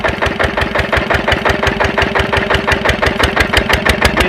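A diesel engine converted to run on LPG gas, driving a water pump, chugs loudly and close with a fast, even rhythm of firing pulses as it picks up speed.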